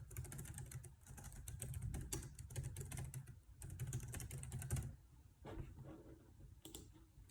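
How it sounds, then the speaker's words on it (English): Someone types a full name into an online form on a computer keyboard, a fast continuous run of close key clicks for several seconds, then a few slower scattered taps after a brief pause. "type your full name below to sign electronically"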